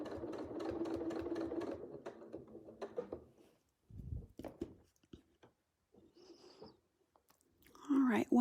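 A sewing machine runs in a steady, rapid stitching burst for about three seconds during free-motion quilting, then stops, leaving quiet handling noises and a brief spoken remark.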